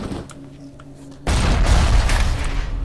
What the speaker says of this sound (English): Oh, shotgun rounds going around.